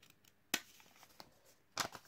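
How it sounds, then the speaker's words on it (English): Scissors snip through a paper pattern, two sharp distinct cuts separated by quieter handling rustles, close and faint. "Just fold it over, give it a snip, pop your scissors in."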